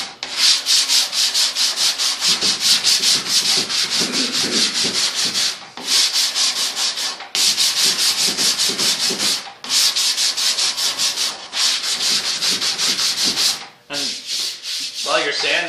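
Sanding a car fender by hand, a loud, close, continuous rasping scrub in long back-and-forth strokes, broken by a few brief pauses and no voices.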